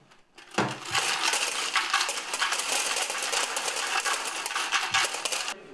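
Coins poured out of a piggy bank, a dense continuous metallic jingling and clattering cascade lasting several seconds, loud and close, with no speech.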